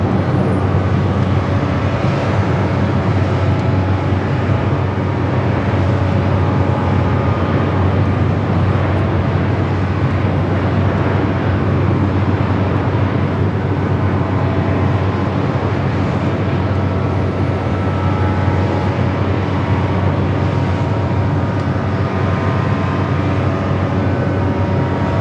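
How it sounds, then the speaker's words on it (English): A Boeing 787 Dreamliner touches down on runway 24R at LAX, giving a continuous loud, dense rumble of engine and rollout noise that stays even from start to finish, with no speech. "Dreamliner touching down at 24 right."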